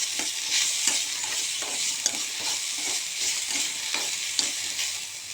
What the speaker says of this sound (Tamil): அதோடு அப்புறம் கொஞ்சம் தேங்காய் சேர்த்து நல்லா வணக்குங்க.